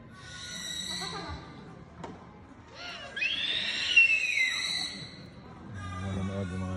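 A bird calls with whistling, warbling notes in several bursts, fairly close, with faint background noise between calls.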